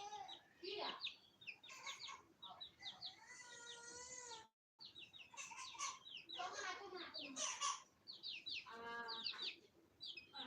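Chickens cluck and call repeatedly in bursts near a rural home, fairly close and quiet, with a brief pause midway.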